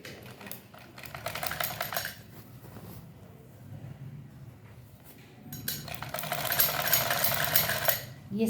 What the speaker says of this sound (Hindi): तो अब मैं सिलाई लगा रही हूँ यहाँ पे